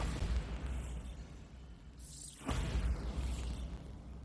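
A Bombarda blast spell going off in Hogwarts Legacy, a sudden sharp burst around the midpoint that swells into a rumbling boom over steady low game ambience.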